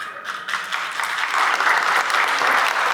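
A lecture audience breaks into dense, sustained applause, many hands clapping together at close range and building slightly in loudness, with no talk over it.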